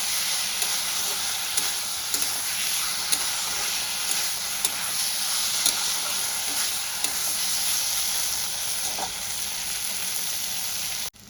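Fried potatoes are sautéed with spices in a pan, giving a constant loud sizzle and hiss, punctuated by regular scrapes of stirring. The sound stops abruptly at the end, with no talking.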